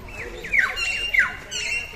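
A myna bird gives a few harsh squawks close by at Bengal Safari Park in Siliguri, three sharp calls spaced about half a second apart over low background hum.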